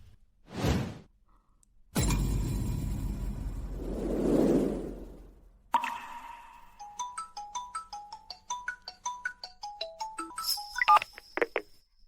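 A telephone rings out after a call is placed amid a tense marital dispute, a bright repeating electronic ringtone pattern of short tones following a whoosh and low rumble, loud and close, no talking.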